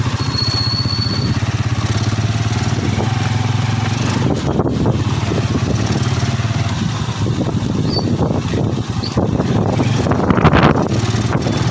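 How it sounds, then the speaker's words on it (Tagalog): Loud, steady wind buffeting the microphone over a droning engine on a rough road, with gusty roaring swells throughout. "Lakas ng hangin."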